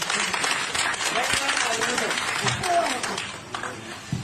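An audience at a political party gathering applauds in a dense, continuous wash of clapping while a voice talks over it.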